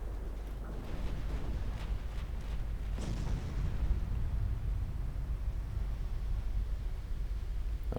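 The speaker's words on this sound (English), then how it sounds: "That was a well-aimed volley." A naval gun volley from warships in the Ultimate Admiral Dreadnoughts naval battle game: a burst of deep booms early on, then a sustained low rumble that fades under steady background roar.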